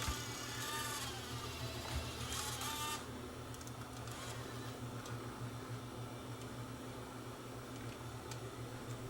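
Mechanism inside a Panasonic PV-S62 Super VHS-C camcorder turning quietly, a soft steady whir with low hum and a few faint clicks after some louder handling noise at the start.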